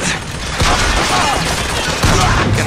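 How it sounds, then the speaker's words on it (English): Rapid machine gun fire in the video game Bioshock Infinite, a dense sustained burst of loud shots with booming low end, continuous across the moment and slightly intensifying partway through. "Someone's got a machine gun or something up there."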